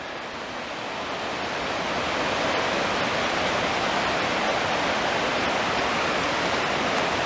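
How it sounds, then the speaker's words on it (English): The Rose River in Shenandoah National Park flowing steadily, a continuous broadband rush of moving water that grows a little louder at the start and then holds even, with no voices. "There's the Rose River."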